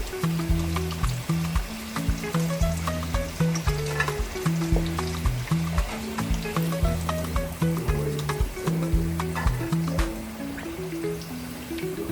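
Ghanaian yam fries sizzle and crackle in hot oil under steady background music.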